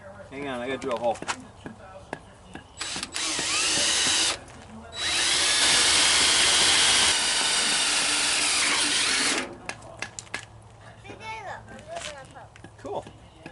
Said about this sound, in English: Hang on, I gotta drill a hole.